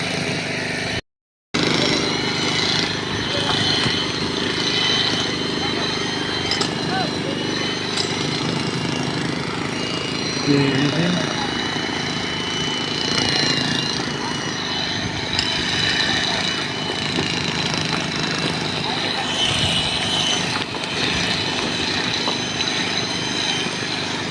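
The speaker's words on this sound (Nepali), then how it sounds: "ड्रिल यसरी हानिरहेछ" Drill hammering into ground on a steep uphill worksite where cement is being carried, a steady loud mechanical rattle and engine drone running continuously throughout, close by, with a brief dropout near the start.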